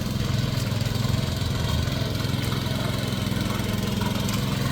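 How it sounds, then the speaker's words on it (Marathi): A tractor engine puddling a paddy field chugs steadily at close range, a low, even rumble that holds without pause throughout. No one speaks. "ट्रॅक्टरच्या सहाय्याने इथं आता चिखल केली जाते आहे"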